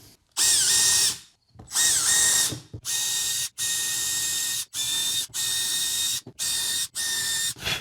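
Power drill boring holes through plywood for galvanized screws in a shed, loud whining bursts of the motor starting and stopping several times with short pauses between, close up and with no talking.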